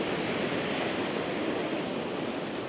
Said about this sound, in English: I'll just need to wait for the perfect wave to come in.